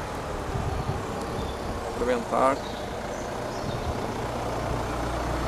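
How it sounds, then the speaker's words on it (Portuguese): A vehicle rumbles past steadily nearby, its road and engine noise filling the background while a person briefly speaks over it. "Está o carro a passar."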